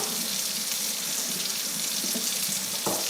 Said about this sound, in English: And then once it's lathered up, you're just going to rinse it clean.